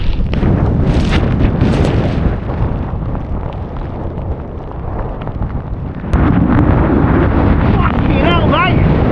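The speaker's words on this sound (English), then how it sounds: "The winds are getting powerful." Strong, gusty wind buffets the microphone near the summit of Snowdon in a snowstorm, a loud, continuous roar that swells again toward the end, with a voice briefly heard.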